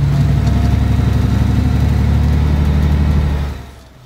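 Heavy truck engine in Alaskan Road Truckers drones steadily and loudly at low pitch for about three and a half seconds, then quickly fades away, with no talk over it.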